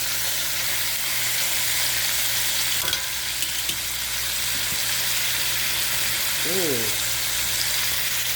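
Neck bones brown in a hot pan with a continuous close sizzle and crackle. A few clanks are heard partway through, and a brief voice comes in near the end.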